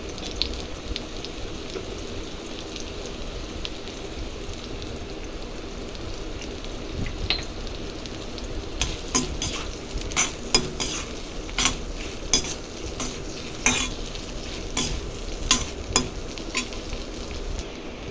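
Meal maker soya chunks sautéing in oil with salt make a constant close sizzle, with a spoon clinking and scraping against the pan in a busy, irregular rhythm that grows stronger in the second half.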